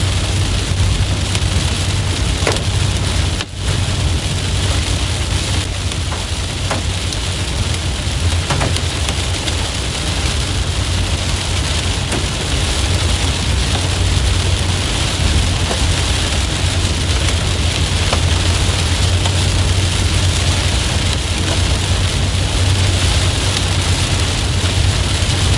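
Rain and small hail drum steadily on a storm-chasing car driving through the core of a tornado-warned supercell in southeast Missouri, a dense continuous rush with an engine hum beneath and one sharp knock near the start.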